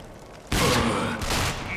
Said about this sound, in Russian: Смотрите, два выстрела.